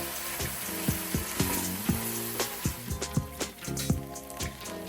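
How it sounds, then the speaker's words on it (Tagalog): A spoon stirs chicken and rice together in a pot for Filipino arroz caldo, giving a run of close scraping, clacking knocks over a soft sizzle. "Mix everything together so the rice and chicken are evenly combined."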